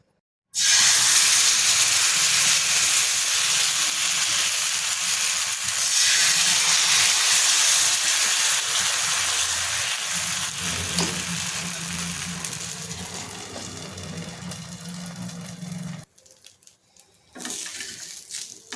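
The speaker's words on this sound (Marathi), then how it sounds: "इथे आपण तव्याला तेल लावून घेऊयात" Dosa batter fries on an oiled tawa, a loud, steady close-up sizzle and hiss that continues for most of the time, fades slightly, then cuts out briefly before resuming.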